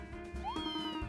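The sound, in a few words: cat meowing in video game Fantasy Life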